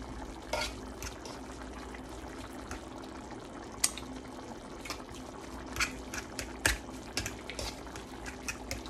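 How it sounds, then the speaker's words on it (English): Soft, wet squelches and taps come from a fork mashing boiled potatoes with butter for shepherd's pie. The scattered, irregular strokes are close but faint, with no talking. "I want to mash my potatoes while I'm incorporating the butter"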